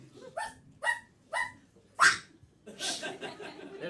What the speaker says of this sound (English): I hear two distinct different dogs.